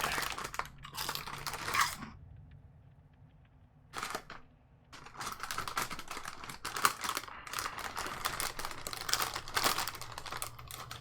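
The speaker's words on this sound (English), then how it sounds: "Apologies, you can hear the bag rustling." Someone snacking from a rustling bag at a tabletop game session: bursts of crinkling and crunching packaging come in irregular clusters, close to the microphone, with quiet gaps between.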